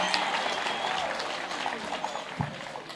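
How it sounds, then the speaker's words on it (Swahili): Crowd clapping for an elderly man after his speech at an outdoor community gathering in Kirinyaga, Kenya, moderately loud scattered claps that thin out over a few seconds with faint voices. "Pigieni hiyo mzee makofi"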